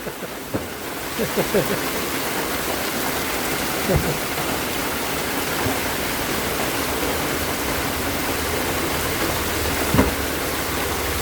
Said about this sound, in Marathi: बघा किती जोरात पाऊस चालू आहे बघा